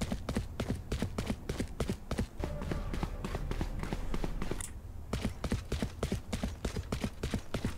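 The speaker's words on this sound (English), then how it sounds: "every agent has different footsteps" Agent footsteps in the game Valorant, a rapid, regular run of sharp steps, fairly close and alone, with a short pause midway before the steady rhythm resumes.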